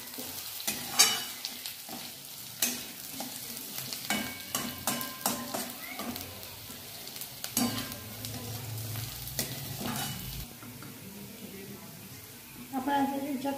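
Onions and peanuts sautéing in a pan, with a steady sizzle broken by repeated rhythmic spatula scrapes and knocks, close and fairly loud, and a voice talking briefly under the frying.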